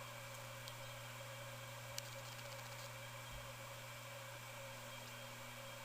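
A stalled ceiling fan motor hums steadily, a low constant electrical drone with faint steady tones above it, quiet and unbroken, with no talking.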